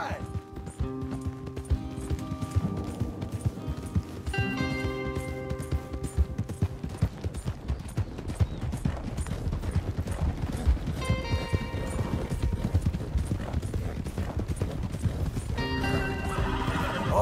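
Horses gallop in Red Dead Redemption 2, with rapid clip-clop hoofbeats running throughout and several loud neighs and whinnies rising above them, and a voice is heard briefly.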